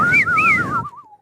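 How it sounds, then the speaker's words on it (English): A person whistles a bright wavering melody, rising and falling over about a second and fading out at the end, loud and close over a faint background. "people who can whistle like this"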